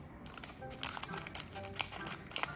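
Scissors cut open an Animal Crossing amiibo card booster pack, giving faint, close crinkling and snipping of thin foil wrapper in quick irregular bursts.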